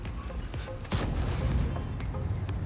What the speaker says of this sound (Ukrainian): З вертушки дає нам постріл.